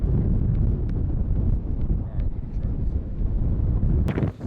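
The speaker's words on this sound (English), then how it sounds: "obviously it is mad windy out here" Strong wind buffeting a microphone outdoors, a loud, continuous low roar with gusty fluctuations and a sharp crackle near the end.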